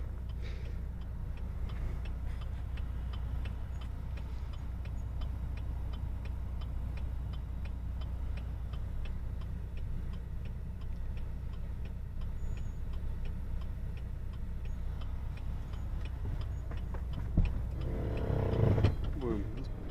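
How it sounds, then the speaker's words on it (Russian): A car idles and is driven out in a cramped yard, its steady engine rumble close and continuous, with a brief rise near the end. "Ну вот машину выгоняют."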